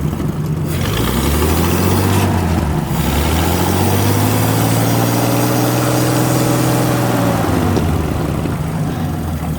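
A propane-converted flathead Ford engine on a 1940s Motowlift forklift idles steadily, a loud, close, low rumbling drone that fills the whole stretch with an even throb and no talking.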